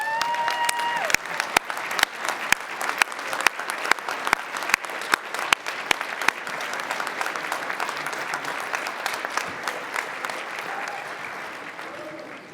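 Convention delegates at the BCFED 2024 convention applaud to welcome a speaker, a dense, sustained clapping from a large crowd that swells and then gradually fades.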